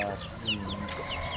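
Gamefowl chickens on a farm give short, close clucks and throaty calls, with a few higher squawks scattered over a steady background of other birds.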